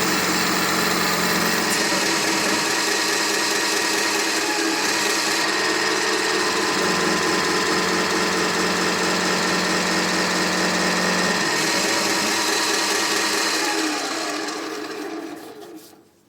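A mini lathe (rotary tool) runs steadily at high speed for a fast final polishing pass, a loud continuous whine with rough grinding texture that holds for about fourteen seconds before winding down at the end.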